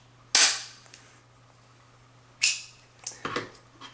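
A SIM card cutter punches a standard SIM down to micro size with a sharp, loud snap, then a second snap followed by a few quick clicks as the mechanism releases, close up against a quiet background.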